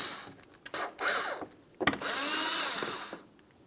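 Power driver removing the two Phillips head screws from a tail light assembly on a 2002-2005 Ford Explorer with the tailgate open, heard as short close whirring bursts separated by pauses.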